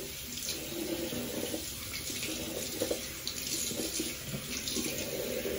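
Tap water runs steadily into a sink as hands are washed under it, a continuous close splashing rush with small shifts in flow, no voices.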